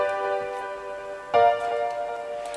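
Major chord progression played on a software instrument in FL Studio, two sustained chords with a new chord entering partway through, moderately loud with no voices.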